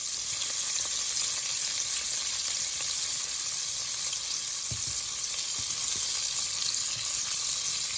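Gravy cooking from scratch in a pan for cube steak, a continuous loud sizzle and bubbling with a few soft scraping stirs partway through, no voices.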